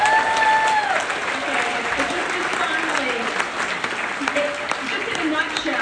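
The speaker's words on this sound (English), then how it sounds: "let's get a round of applause for all the people" Crowd applause at a Canada's Walk of Fame induction ceremony for Glass Tiger in Toronto's Massey Hall, loud sustained clapping from a large audience with cheers, a few whistles and a voice speaking over it.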